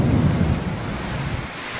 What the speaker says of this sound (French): un violent orage accueille l'arrivée du prêtre